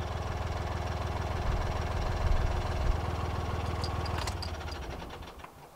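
A narrowboat engine idles while the boat moors, a close, steady low chugging that cuts out near the end and fades to quiet with a few light clicks.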